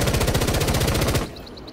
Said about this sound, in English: I'm just going to aim at this wall and see what happens when I just hold down the trigger.